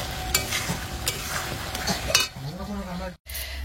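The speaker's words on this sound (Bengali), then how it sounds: "ফোড়ন দিয়ে দিলাম তেজপাতা, শুকনো লঙ্কা, জিরা," Bay leaf, dried chilli, cumin, garlic and onion tempering in hot oil: sharp sizzling with spatula clinks against the pan, then the frying quiets, a brief pause, and the sizzle returns.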